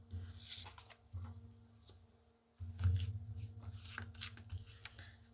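Tarot cards are handled and shuffled nearby in a quiet indoor space, soft papery rustles and riffles coming in short bursts with brief gaps between them.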